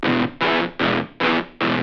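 Five heavily distorted guitar chords strike in an even rhythm, each held briefly with a washy reverb tail between hits.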